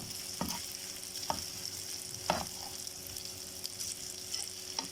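Sausage fries in a pan with a spoonful of ghee, a quiet, steady sizzle broken by a few soft scrapes and knocks as it is stirred.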